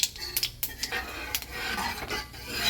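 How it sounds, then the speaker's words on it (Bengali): Spices spluttering in hot oil in a pan while tempering dal with bottle gourd and tomato, heard as scattered crackles and metallic scrapes of a utensil stirring, fairly faint and close, with no talking. "একটু তেল দিয়েছি আর একটু ফোড়ন দিচ্ছি।"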